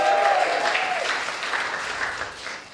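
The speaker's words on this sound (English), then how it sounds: "Give her an applause, she tried." Applause for a third-place game contestant, a short burst of crowd clapping that tapers off over a couple of seconds, with a brief voice at the start.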